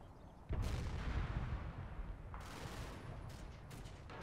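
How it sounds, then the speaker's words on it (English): Mortar fire in a WWII video game set around a village in the Normandy hedgerows: a sudden heavy blast, then rumbling, crackling impacts and scattered further bangs continuing under a steady battle din. "I see mortar fire going on into the village there."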